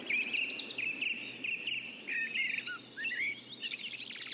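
A blackbird sings clear, fluting phrases in a woodland, close and alone, with other birds and insects chirping faintly in the background.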